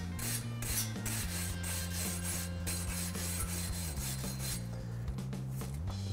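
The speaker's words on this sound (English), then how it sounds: "I'm going to take a wire brush and just brush it off." A wire brush scrubs rust from a car's wheel hub before a new brake rotor goes on, a steady close rasping that runs without a break, with a low mechanical hum underneath.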